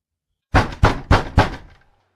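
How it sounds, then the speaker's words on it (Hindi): Someone knocks loudly on a door in a night-time horror story: four heavy, evenly spaced knocks, close and sharp, each ringing briefly, followed by silence. "इस बार दस्तक पहले से भी तेज थी।"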